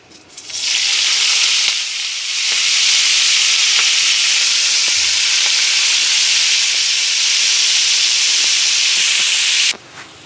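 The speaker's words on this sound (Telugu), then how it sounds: "ఇదే నూనెలా ఇప్పుడు పాలకూర ఫ్రై చేసుకోవాలి" Spinach frying in hot oil in a pan gives a loud, steady sizzling hiss that holds evenly for about nine seconds and then cuts off abruptly.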